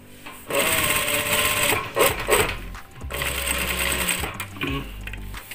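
A sewing machine stitches hijab fabric up to the edge in two long, loud runs with a brief pause between them, plus a few clunks as the fabric is handled.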